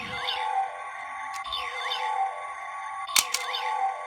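A Kamen Rider Ghost Driver toy transformation belt emits a looping electronic standby tune with warbling synth tones and a couple of sharp clicks, fairly quiet and repetitive.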